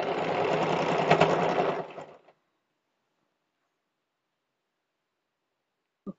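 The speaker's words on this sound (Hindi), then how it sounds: "पूरे में मैं इस तरीके से सिलाई लगा लेती हूँ, बिल्कुल बराबर बराबर पकड़ते।" A sewing machine stitches the belt of a box-pleated skirt in a close, busy two-second run, then falls silent, with one small click near the end.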